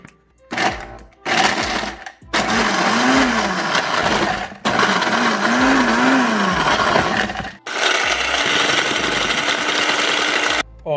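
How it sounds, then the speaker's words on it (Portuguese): A kitchen blender crushes biscuits into crumbs, loud whirring bursts in several pulses with short stops between, the motor pitch wavering as the load shifts. "nós vamos precisar colocar as bolachas no liquidificador e bater até virar"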